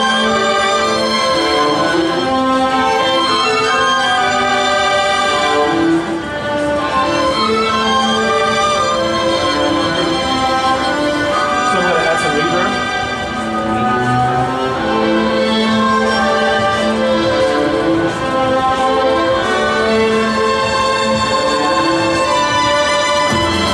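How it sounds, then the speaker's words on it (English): An orchestral string section soloed from a studio session recording plays sustained, layered harmonies. The sound is full and loud and continuous for over twenty seconds, with swelling bowed tones and no voices. "It sounds like this. I'm going to solo the strings."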